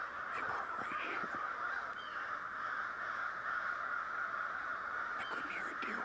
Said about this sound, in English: Have you ever seen this many crows in your life?